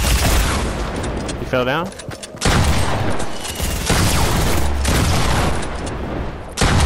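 Loud bursts of rapid gunfire in a battle royale video game, dense and continuous, briefly cut by a short gap and a voice speaking before the shooting resumes.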